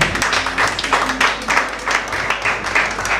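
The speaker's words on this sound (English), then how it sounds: "Please, let's give him a round of applause." Church congregation applauding an area pastor at an RCCG anniversary service, a steady patter of many hands clapping with uneven pulses throughout, fairly close and moderately loud.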